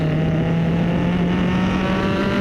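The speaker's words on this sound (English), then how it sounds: "Again, we rev hard all the way, really enjoying everything." Formula 4 race car engine at a sustained high-rpm rev, a loud steady droning whine close up from onboard, with no speech.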